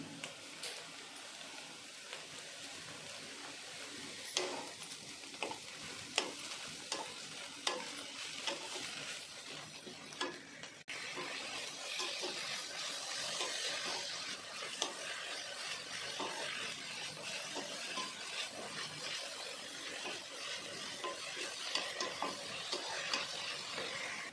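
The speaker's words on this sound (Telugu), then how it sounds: "ఈ ఆకునంతా లో ఫ్లేమ్లోనే బాగా వేపాలి" A large bunch of mint leaves frying on a low flame, a soft continuous sizzle broken by scraping, stirring clicks, faint and close, with no voices.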